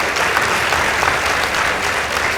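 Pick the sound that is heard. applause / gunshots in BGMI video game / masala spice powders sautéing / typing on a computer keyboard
applause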